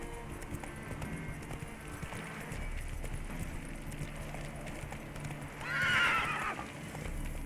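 Roach, Geralt's horse in The Witcher 3, gallops with a steady rhythmic clip-clop of hooves under game ambience, then lets out a loud, close whinny near the end before the hoofbeats carry on.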